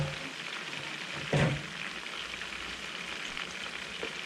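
Chicken frying in a pan, a steady dense sizzle and crackle of hot oil filling the whole clip, with a brief louder burst of spattering near the start and no voices.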